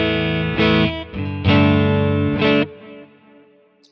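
Clean, warm Fender-style electric guitar tone from an amp modeler, heard as a few sustained strummed chords ringing out one after another and decaying alone.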